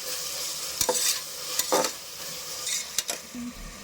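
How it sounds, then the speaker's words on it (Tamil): Tomatoes and halved green chilies sauté in a pan for kothu kari, a steady sizzle broken by a spoon scraping and clinking against the pan every second or so. "இப்போ தக்காளி போட்டுக்கலாங்க. பச்சை மிளகாவும் 1 2 பாதியாக பண்ணியிருக்கேன். நல்லா வதக்கிக்கலாம்."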